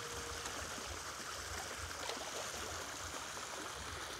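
Water pours in from a drain channel beside a river, giving a steady, faint, continuous rushing trickle heard at a distance with no talk.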